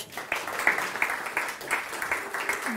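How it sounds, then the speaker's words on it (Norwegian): Brief applause from a small audience at a climate breakfast seminar on batteries, a light patter of claps rising and falling with a faint background murmur. "Applaus til Magnus"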